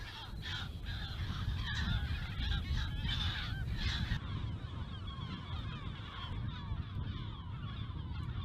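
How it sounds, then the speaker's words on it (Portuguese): A colony of marine gulls calls constantly on an island in the Ria Formosa, with a dense wash of overlapping harsh cries and squawks over a steady low rumble of wind or surf, neither near nor far. "Uma espécie de gaivota diferente das outras gaivotas, porque é uma gaivota essencialmente marinha"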